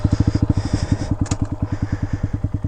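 A Honda Grom motorcycle engine thumping steadily while riding an off-road canyon trail, a loud, fast, even pulse close to the rider throughout.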